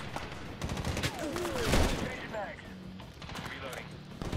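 Gunfire in the Medal of Honor video game during an Afghan combat mission, rapid bursts of rifle shots crackling over several seconds, with a short Turkish-speaking voice underneath.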